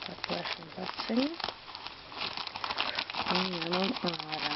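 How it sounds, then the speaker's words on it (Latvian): An AliExpress parcel is torn open by hand, with crinkling and rustling of packaging coming in bursts, close to the mic, while a person talks over it. "Atplēšam paciņu."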